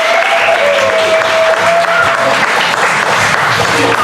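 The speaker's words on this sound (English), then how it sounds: "hold the applause, please" Loud audience applause and cheering at a live improv comedy show, a dense continuous wash of clapping with crowd voices mixed in, steady throughout.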